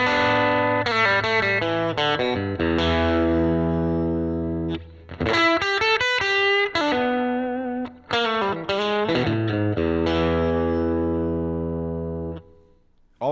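Modified 1951 Fender Nocaster electric guitar on the bridge pickup with the tone control bypassed, playing loud, sustained chords and short riffs with brief pauses, no talking.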